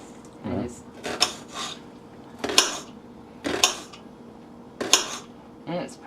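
A sharp knife thinly slices an onion for a three bean salad, with crisp, evenly spaced cuts tapping against a board every second or so, and a voice speaks briefly at the start.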